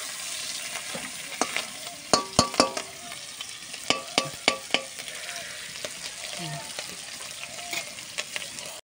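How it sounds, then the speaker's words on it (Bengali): Small shrimp fry in hot oil for a Bengali shrimp chorchori with bottle gourd, a close steady sizzle broken by sharp spatters and utensil clicks against the pan. "এই চিংড়ি ভাজলে যেন মনে হবে ফুলে যাচ্ছে।"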